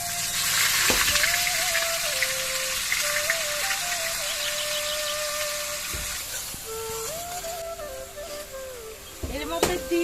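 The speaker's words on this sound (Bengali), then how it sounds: "ফোড়নগুলো ভাজা হয়ে যাওয়ার পর এর মধ্যে দিয়ে দিচ্ছি কিছু পেঁয়াজ বাটা" Onion paste sizzles in hot oil with fried whole cumin and spices for egg rice, a steady close frying hiss running throughout, with a few whistle-like tones and brief clatters on top.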